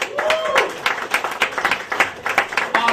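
Live audience at a comedy show clapping steadily for a comedian, a sustained ripple of applause from a crowd in a small venue, with some cheering voices under the clapping.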